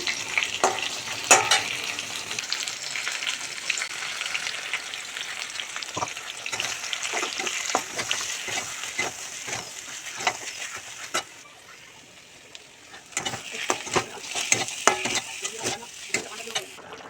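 Pointed gourd frying with poppy seed paste in a home kitchen, a sizzle under repeated scraping stirs of a spatula against the pan, briefly easing near the middle before the stirring resumes.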